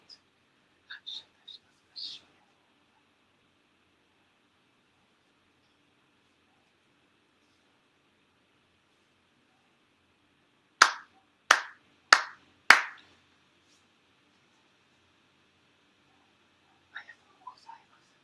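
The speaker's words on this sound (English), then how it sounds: "four sincere claps along with the head officiant" Four sharp ritual hand claps ring out in quick, even succession at a Konko Church monthly ceremony, loud and close in an otherwise hushed room, with faint small taps and rustles before and after.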